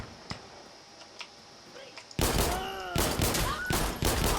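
Gunfire in Insurgency Sandstorm during a pistol match: a few sparse, distant shots, then a sudden burst of loud, close, rapid firing with sharp cracks and ricochet whines.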